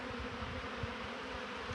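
Honey bees buzzing around a water source at an apiary, a continuous low steady drone of many insects, fairly quiet and uniform, with no voices.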